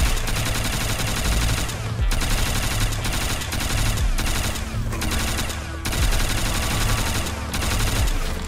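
MG42 light machine gun in Call of Duty Black Ops 3 zombies mode, firing long sustained automatic bursts, loud and close, split by short pauses roughly every two seconds.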